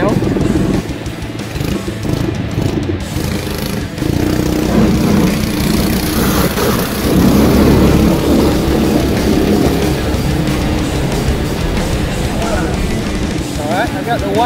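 A Yerf Dog Spiderbox go-kart with dual 212 engines runs loudly and continuously up close, its rough motor drone swelling slightly as throttle changes, with people talking over it.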